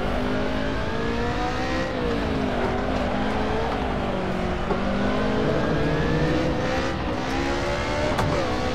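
Racing engine from an Assetto Corsa modded car, revving steadily with gear shifts and pitch dips as it brakes and accelerates, loud and continuous.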